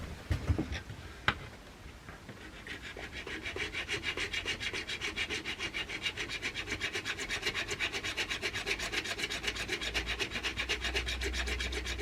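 Steady, rhythmic rasping strokes of a file on fiberglass filler over an Apple II plastic case, close and continuous after a few scattered knocks at the start, with no talking.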